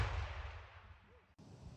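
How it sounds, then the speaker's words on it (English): A historic cannon fires at Fort Pulaski, a Civil War fort: one heavy boom is already sounding at the start and rolls away into a fading rumble, followed by a sharp cut and faint outdoor noise. "they're gonna fire off some of those cannons"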